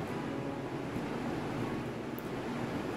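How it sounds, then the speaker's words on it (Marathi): A mixer grinder whirs steadily and loudly, blending green chili, coriander, salt and water into a chutney, one continuous dense roar with no pauses. "पाणी टाकून आपल्याला हे मिक्सरला फिरवून घ्यायचं आहे।"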